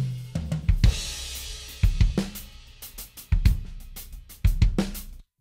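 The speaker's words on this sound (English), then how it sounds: "So we have our drum tracks here." Real drum kit recorded dry in a small room with close, room and tom mics; loud kick and snare hits with cymbal wash in a steady groove, then an abrupt stop.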